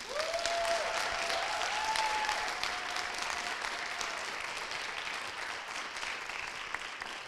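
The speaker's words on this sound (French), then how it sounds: "On peut tous les applaudir." Sustained applause from an audience at the final of a student debating contest, steady and dense for several seconds, tapering slightly toward the end, with a faint tonal sweep over it early on.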